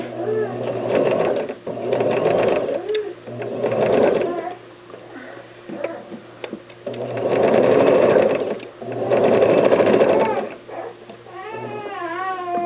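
A sewing machine stitches in a zipper, running in several steady bursts of a few seconds each with short pauses between them, close and clear.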